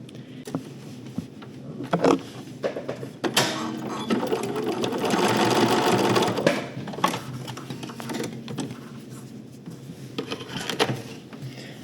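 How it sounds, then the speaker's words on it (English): A sewing machine stitches in a steady mechanical whir for a few seconds, flanked by handling clicks, fabric rustles and small knocks before and after. "I go to my sewing machine and I pull it up and I stitch just through this to tack it"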